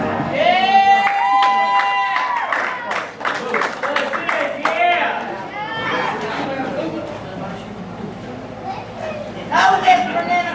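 Wrestling arena crowd at a WFC event roaring and cheering loudly and steadily, with whistles and shouts, swelling again near the end while an announcer talks over it.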